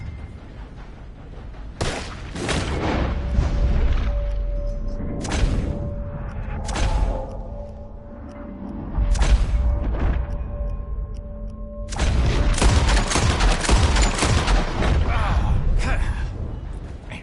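Repeated gunshots ring out in Red Dead Redemption 2, loud bursts at about two, five and seven seconds, then a sustained volley of rapid fire from around twelve seconds on over a low rumbling background.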